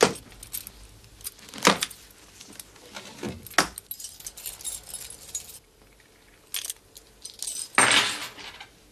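A bunch of keys jangles in a few sharp metallic bursts, fetched from a desk drawer to open a safe, with quieter rustling and handling noise between the louder shakes.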